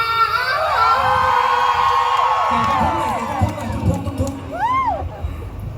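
A crowd shrieks and cheers loudly, high voices sliding up and down over a busy babble, fading toward the end.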